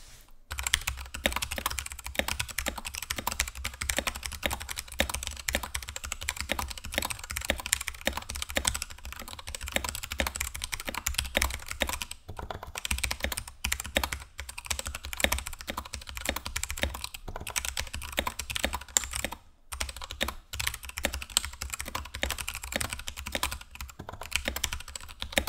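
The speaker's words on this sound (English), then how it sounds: "Here's a sound test of the AnPro 2 with KO Box Brown switches, and I haven't modded this keyboard in any way." An unmodded Anne Pro 2 keyboard with Kailh Box Brown switches is typed on over a desk mat, with steady fast keystrokes clattering close for about 25 seconds and a couple of short pauses.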